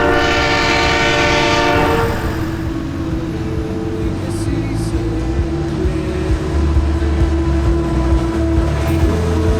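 Long train rumbling steadily past with a loud horn blast sounding over the first two seconds, then continuous wheel and car clatter close by, with a faint high squeal later.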